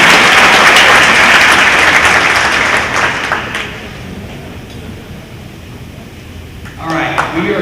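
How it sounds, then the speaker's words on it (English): Applause from an audience at a high school signing day ceremony, loud and dense at first, then thinning to scattered claps before a brief swell at the end. "one more round of applause"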